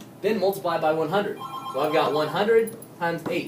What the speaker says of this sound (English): That's just my phone. They're inviting me to all kinds of parties.